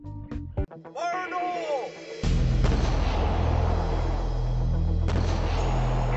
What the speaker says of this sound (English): this grenade is designed to rip and punch its way through whatever's in its way